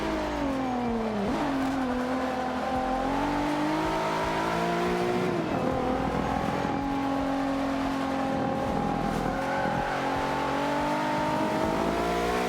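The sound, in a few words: Infiniti Q50 car engine driving in Forza Motorsport 5 video game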